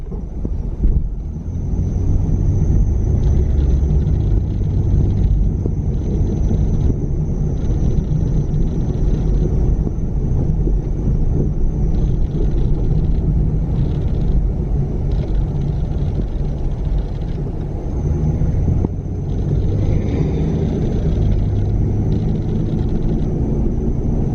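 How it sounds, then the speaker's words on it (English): A car with worn-out brakes drives along, giving a steady low road and engine rumble with wind noise across the whole stretch and no voices. "Driving smooth, no engine light, no nothing, shifts great."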